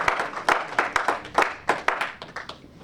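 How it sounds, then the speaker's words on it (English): Applause from an audience at an annual Black History Month men's forum held in a mosque in Elizabeth, New Jersey: a burst of claps with sharp irregular peaks, moderately close, fading slightly toward the end, with no talking. "Give yourself a round of applause."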